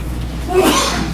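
A single short sneeze bursts out over a steady background hum, quick and fairly loud, with no talking around it.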